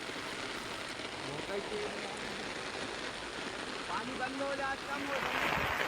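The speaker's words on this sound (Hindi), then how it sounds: "सिवनी में लगातार बारिश जारी है और बारिश का पानी अब किस तरह से देखिए नदी नालों में उफान बनकर आ रहा है" Heavy monsoon rain in Seoni sends floodwater surging through rivers and drains, a steady broadband rush of flowing water holding a constant level throughout, with faint voices briefly surfacing under the torrent.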